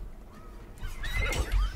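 A horse in Minecraft Legends gives a loud, shrill whinny during battle, rising and wavering over low rumbling game sounds, with a second snort-like burst near the end.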